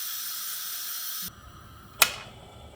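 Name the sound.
pressure cooker valve dropping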